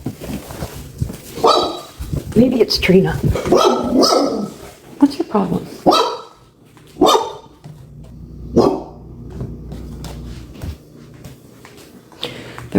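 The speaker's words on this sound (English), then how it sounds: "My dog's going off." A dog barks in several sharp bursts with some whimpers between them, sounding from nearby indoors while a person talks over and around the barking.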